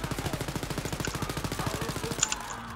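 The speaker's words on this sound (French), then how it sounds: "Hop, fusil à pompe." A shotgun fires in the co-op shooter Wolfenstein: Youngblood, sounding as a rapid, regular string of loud, close blasts that stops abruptly, followed by a few faint metallic clicks.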